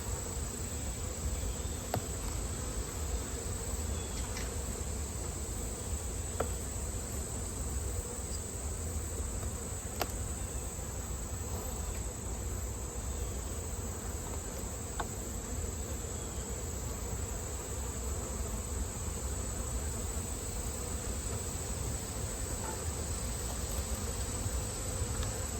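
Bees in an opened beehive during a mite check make a dense, continuous buzzing drone that holds steady and close throughout, with no talking.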